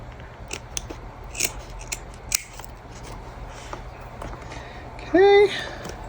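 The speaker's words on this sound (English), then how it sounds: "so I'm just trimming it away to what I need" Scissors trimming sewing interfacing for a bag, with soft scattered snips and rustles of the material, then a sharp, close blade snip near the end.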